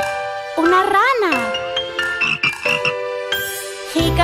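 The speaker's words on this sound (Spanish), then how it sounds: "Una rana." A cartoon frog croaks in a bouncy children's Christmas-on-the-farm song, its voiced calls rising and falling over chiming music, with a child-like singing voice throughout.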